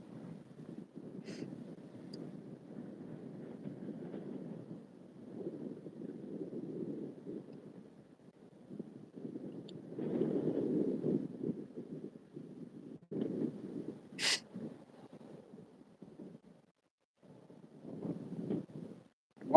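Wind buffeting a microphone outdoors while fishing, low muffled gusts coming in uneven bursts, with quiet gaps between them and a brief higher chirp partway through.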